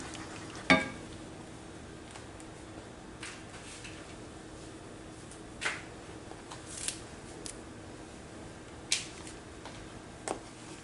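Kerala-style mango pickle mixture with curry leaves simmering in a pan, giving sparse, faint pops and soft crackles over a quiet, low background with no talk.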